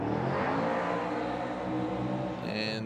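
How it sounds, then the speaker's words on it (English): Drift car with an X-Force exhaust roaring loudly through a course at a Monroe drift qualifying event, a sustained harsh engine drone that holds steady before a brief shift near the end. "Loud and proud X-Force exhaust into that outer zone, into the front clip and the final clip."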